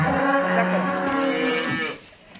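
A cow on a Punjab, Pakistan cattle farm lets out a long, loud mooing call close by, then it cuts off and leaves quieter background.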